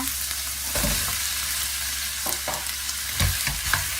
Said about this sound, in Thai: แล้วก็จะใส่ผักทองลงไปค่ะ